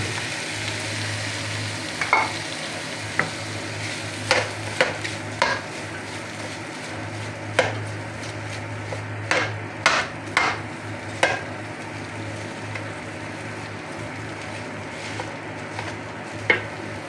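Eggs frying in a pan for Filipino-style egg fried rice, a soft steady sizzle punctuated by sharp clinks of a utensil scraping and tapping the pan at irregular intervals, with no talk.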